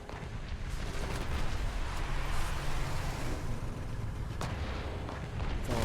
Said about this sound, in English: Far range. Just the artillery.